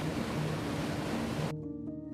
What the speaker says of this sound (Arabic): وده صوت النهر الصغير المايه اللي بتمشي دي